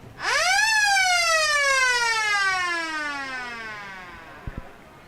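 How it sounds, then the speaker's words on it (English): A single siren at a first-grade sports match wails up quickly, then slowly winds down over several seconds, steady and fairly loud, with a couple of soft knocks at the end. "There goes the siren in the background."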